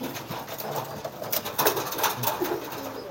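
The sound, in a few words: pigeons cooing while brooding eggs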